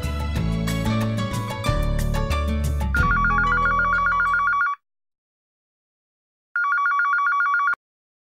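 A telephone rings with a steady electronic trill in two bursts, the first layered over loud music that then cuts off, the second alone after a short silence.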